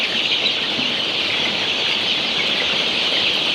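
Chickens cluck and chirp as a dense, continuous flock chatter during vaccination against Gumboro, loud and steady with no talk over it.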